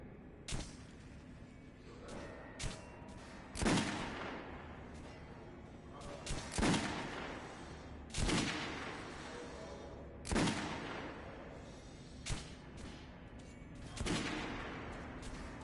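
Volleys of gunfire after an order to fire, with about seven sharp, loud reports spaced a second or two apart, each one ringing out with a long, echoing decay.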